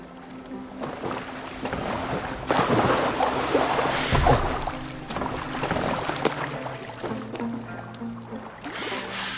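A boat moves across water in Assassin's Creed Valhalla, with sloshing, splashing and rushing water swelling and fading over a steady low rumble, no voices.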